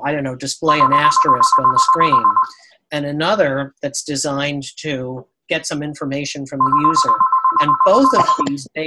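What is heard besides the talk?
phone ringing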